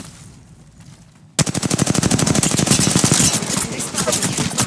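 After a quiet start, sustained automatic fire erupts in Apex Legends, a loud, rapid, evenly spaced stream of shots continuing to the end.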